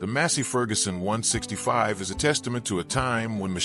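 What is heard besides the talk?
No everyday noise stands out behind the speech.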